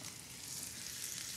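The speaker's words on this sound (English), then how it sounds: "Add my chicken. Hear the sizzle?" Flour-dredged chicken pieces sizzle steadily in a hot sauté pan, a dense, even hiss close to the microphone with no break or talk.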